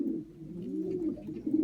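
Racing pigeons coo low and steadily while drinking from a one-litre waterer, a soft continuous rolling murmur close by with no talking.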